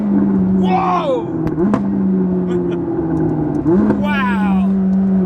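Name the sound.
McLaren 600LT exhaust popping on upshifts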